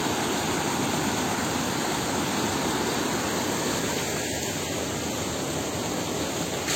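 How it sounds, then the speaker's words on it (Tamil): A waterfall pours down a drop, a steady, dense roar of falling water that fills the scene loudly and evenly, with no pauses. "இங்கேருந்து ஒரு அருவி அங்கே போகுது, பார்த்தீங்கன்னா தெரியும், கீழே விழுது"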